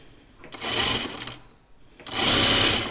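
A sewing machine hems a Kalle shirtdress with a quarter-inch seam in two separate close bursts of stitching, separated by a brief quiet pause.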